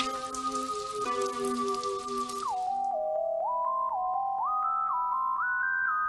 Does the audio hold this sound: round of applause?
no